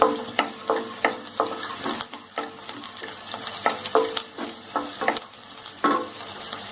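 Cumin and dried curry leaves frying with onion in a pan on the stove, with a steady sizzle under repeated sharp clinks of a spoon stirring against the pan, close and moderately loud, with no talking.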